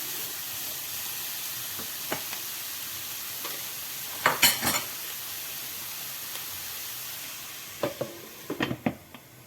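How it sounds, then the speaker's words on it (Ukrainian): Steady frying sizzle from a pan of vegetables for borscht, broken by a few clattering stirs with a utensil, a cluster near the middle and more toward the end. "Все це добре перемішуємо і ще трішечки смажимо, тушкуємо під кришкою."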